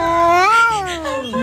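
A ginger cat gives a single long, drawn-out meow that rises and then slowly falls, loud and close, with no talking over it.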